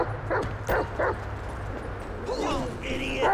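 A dog in the video game GTA 5 gives a few short yelping barks and whimpers near the start, under a low background hum, with brief game sounds or voices later.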